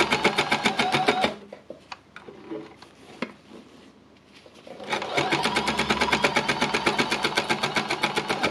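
A fabric embellisher machine needle-punches small pieces of fabric in a fast, steady mechanical chatter that stops for several seconds of quiet handling and then resumes at full speed.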